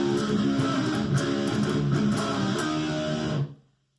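A dense, driving palm-muted electric guitar riff with chugging low notes and sharp picked attacks, played steadily for about three and a half seconds before cutting off abruptly.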